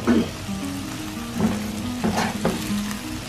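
Chopped onion and a small finely cut tomato frying in a pan for halwa puri, a steady close sizzle with soft stirring scrapes and brief louder crackles, no one talking.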